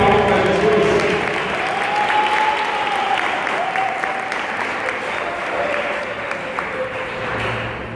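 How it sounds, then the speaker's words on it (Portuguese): Church congregation applauding during a service, a steady wash of clapping running the whole time with a sung or sustained voice tone drifting above it. "Pode bater palmas para Jesus."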